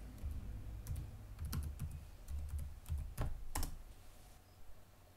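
Password being typed on a computer keyboard: a short run of soft, separate key clicks, close and quiet, with uneven spacing.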